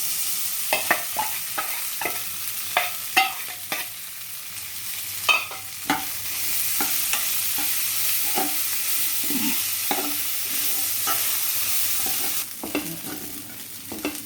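Sweet corn fries with turmeric in a pan for upma while being stirred continuously, with repeated scraping and clinking strokes over a soft, steady sizzle, close and fairly quiet.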